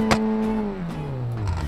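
A rally car engine with its exhaust removed idles close by with a deep, steady throb, its pitch sagging slowly as the revs settle, loud and alone without talk.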